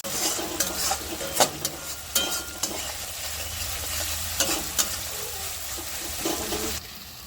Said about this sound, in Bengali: এবার আমি দেবো টমেটো একটু নুন দেবো